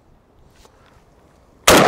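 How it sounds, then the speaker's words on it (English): A single loud, sharp rifle shot from a PSA Krink near the end of the clip, preceded by a quiet moment. "Let's shoot a little bit quicker here."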